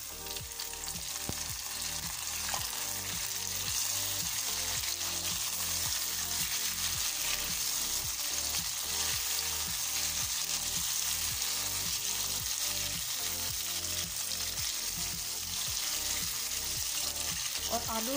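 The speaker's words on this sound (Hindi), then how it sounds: "7 से 8 मिनट तक इसके साथ फ्राई करना है प्याज के साथ, ताकि हमारे जो आलू हैं वो अच्छी तरह से फ्राई हो जाएं।" Potato pieces and onions frying together in a pan give off a loud, dense, continuous sizzle that holds steady throughout, with a faint rhythmic clatter from stirring underneath.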